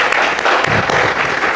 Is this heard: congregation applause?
yes